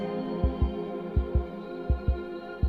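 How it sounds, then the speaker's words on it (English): A heartbeat sound effect within a pop song, soft paired low thumps repeating steadily over a sustained humming musical bed with no voices. "Oh, heartbeat? Is that a heartbeat?"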